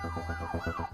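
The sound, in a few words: ambulance siren sound effect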